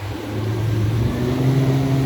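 A new Suzuki 115 outboard motor on a restored 17-foot Mako boat runs under throttle, a steady loud engine drone with low humming tones and a slight rise in pitch, over water and wind noise.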